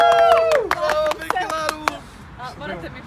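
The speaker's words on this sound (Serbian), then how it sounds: "Ajmo, jedan aplauz, možeš jedan aplauz" A handful of sharp claps from people seated in a limousine, scattered and brief, mixed in with lively overlapping voices and chatter.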